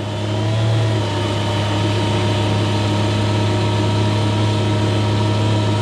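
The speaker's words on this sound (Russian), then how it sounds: "На моторе стоит новая трансмиссия, поэтому звук немного другой." A homemade electric outboard motor with a new transmission runs on a boat, a loud steady hum and whine holding at constant pitch throughout, with no voices.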